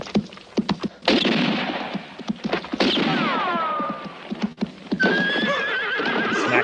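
A horse in a 1966 spaghetti western film scene neighs and whinnies loudly over clattering hooves, with sharp bangs scattered throughout.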